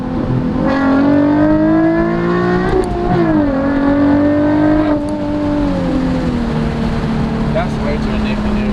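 A Nissan 370Z engine revs and climbs through the gears, its loud, steady tone sweeping up and shifting, heard from inside the car with faint talk underneath.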